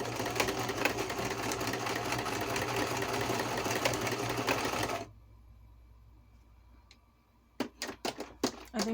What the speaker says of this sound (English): And I'm sewing, and I'm sorry that you can't see, but I am sewing right here.